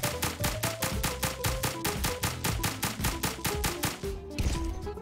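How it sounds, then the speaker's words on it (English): Rapid, evenly spaced paintball gunfire from a paintball war video game, a steady burst of about twenty shots, loud and close, running almost without pause before a brief shift near the end. "This has been the longest, dumbest firefight ever."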